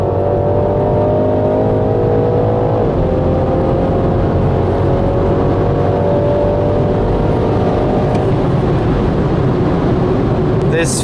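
BMW G20 330e plug-in hybrid accelerating hard with traction control fully off and some wheel spin: a loud, continuous whirring engine tone that climbs in pitch, drops at a shift, then climbs again, with faint voices in the background.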